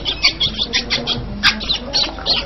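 A caged songbird chirps and sings in repeated bright, close bursts, a steady run of short calls with soft room background.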